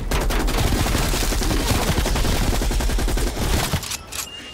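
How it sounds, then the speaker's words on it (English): LMG light machine gun fire in Call of Duty Black Ops Cold War, a loud sustained stream of rapid shots hammering in a steady rhythm for several seconds before cutting off into a brief ringing tail. "The noise of the LMG may startle."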